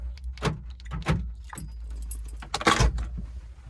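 Old and new Renault car keys jangling in the hand: several bright metallic jingles and clinks in irregular bursts, close and fairly clear, over a faint low hum.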